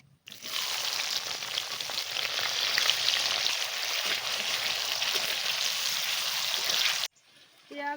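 Onions and green chilies fry in hot oil with cinnamon, cloves, cardamom and bay leaf for a chicken curry, giving a loud, steady sizzle that starts abruptly and cuts off near the end.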